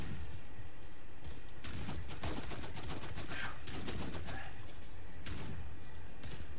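Several sharp, loud blasts from a shotgun in a virtual reality shooter game crack in a cluster, with scattered shots and action noise around them and no clear talking.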